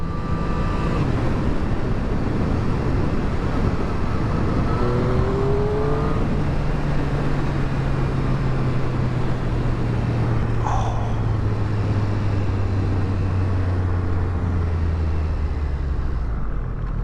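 A 2022 Triumph Street Triple RS motorcycle is ridden at speed, with its engine note holding steady and slowly dropping in pitch beneath constant heavy wind rush.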